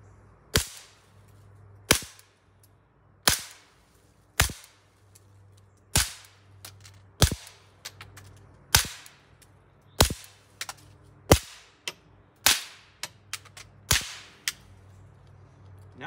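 Gunshots at an outdoor shooting range, a dozen loud sharp cracks fired one at a time at a steady pace about every second or so, each with a short ringing tail.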